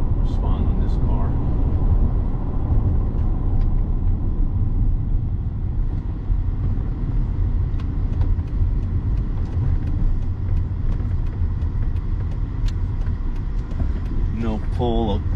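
Car cabin with a steady loud low road rumble and engine drone as the car drives and brakes, the rumble continuous throughout with a person talking near the end.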